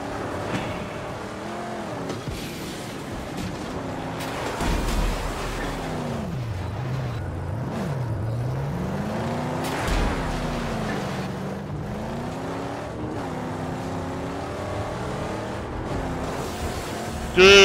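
In the Mad Max video game, a car engine drones and revs up and down as the vehicle drives and brakes to ram another, with rough thumps of impact under occasional talk.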